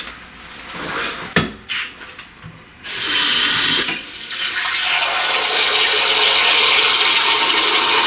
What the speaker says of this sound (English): and then you want to gently add your water here